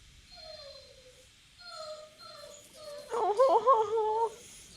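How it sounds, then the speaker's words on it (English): A puppy whimpers nearby in short, high, wavering whines, a few thin cries followed by a louder, trembling run of yelps near the end, faint overall with no talk over it. "dog noises. He just wants attention."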